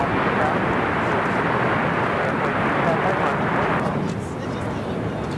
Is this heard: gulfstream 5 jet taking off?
yes